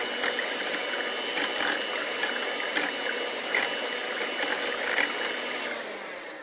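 An electric hand mixer runs steadily on low speed, beating eggs to break them up and whip air into the whites, a continuous close whirring drone throughout with no talking.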